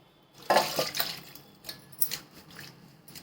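Radish leaves are set to soak in a vessel of water, giving close splashes, drips and light clinks of the pot in a few separate bursts over a quiet room.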